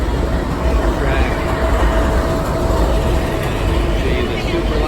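The Texas Eagle passenger train, broken down, rumbles past nearby as a steady, loud rolling roar with a faint high whine, continuous throughout.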